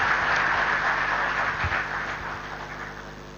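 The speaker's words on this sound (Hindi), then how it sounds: "जोरदार तालियां" Steady applause from an audience at an award ceremony where mementos are presented, a dense even wash of clapping that holds for several seconds and slowly tapers off, with no voices over it.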